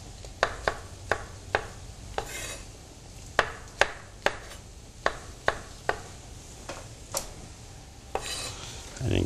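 A kitchen knife chops mushrooms on a cutting board in about fifteen sharp, close knocks at an irregular steady pace, with light utensil clatter in between.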